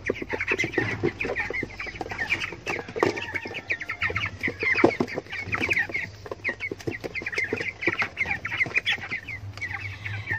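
White broiler chickens at feeding time, with constant overlapping clucks and chatter from a flock close by, forming a busy, continuous barnyard din.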